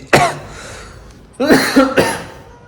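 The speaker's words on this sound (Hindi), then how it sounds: "खांसी की चल गई" Three sharp coughs, one alone and then two more in quick succession after a pause, close and fairly loud.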